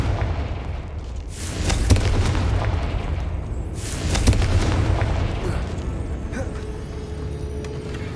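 Confringo fire spell bursts in Hogwarts Legacy as two loud booming explosions a couple of seconds apart, each followed by a rumbling decay under a steady game ambience.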